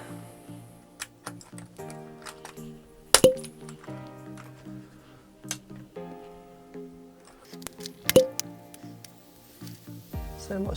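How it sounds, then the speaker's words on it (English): Keycaps are pried off a Commodore Amiga A600 keyboard, giving sharp plastic clicks and snaps at irregular intervals, with two louder cracks standing out among lighter ticks. "we'll get those keys off now."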